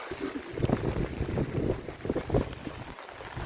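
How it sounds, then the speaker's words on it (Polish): Wind gusts over a fishing boat on a lake at night during a rainy squall, a rough blustery rumble buffeting the microphone with low thumps and flapping, close and fairly loud, with no talk. "Trochę się rozpadało i wieje z deko."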